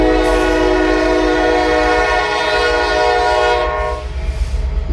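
A train passes close by with a loud, sustained multi-tone horn blast lasting several seconds, under continuous rumbling wheel and engine noise that carries on after the horn stops.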